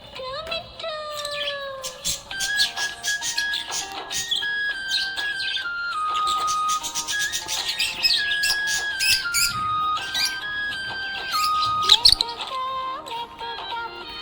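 A happy pet budgie chirps and tweets in quick, bright bursts and short whistled notes, close and lively, alongside melodic tones through most of the stretch.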